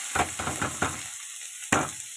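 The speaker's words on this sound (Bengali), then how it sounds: "ফোড়নটা ভাজা ভাজা হয়ে গেছে, যে কেটে রাখা বাঁধাকপিটা দিয়ে দিলাম।" Chopped cabbage tipped into a kadai of spiced tempering oil, producing a few quick sizzling bursts and scrapes of a spoon, close and moderately loud, with short pauses between.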